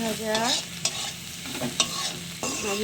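Maggi noodles frying in a pan, with a constant sizzle and repeated scraping stirs of a spatula, close and fairly loud, with no talking.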